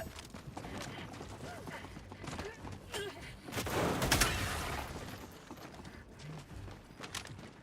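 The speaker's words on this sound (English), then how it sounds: "got myself a shotgun" Shotgun fire in the video game Helldivers 2: bursts of gunfire and blasts, loudest in the middle, mixed with game noise and a voice talking over it.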